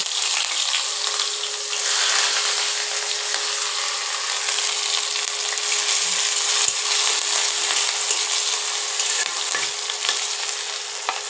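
Potatoes, chopped onion and chili frying in oil for a Bengali dhokar dalna: a loud, steady sizzle with occasional soft knocks, continuous and close.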